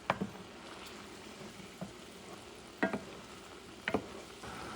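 Steak au poivre cream sauce simmers and bubbles softly in a pan under a low steady sizzle, broken by a few sharp clinks and scrapes of a utensil against the pan.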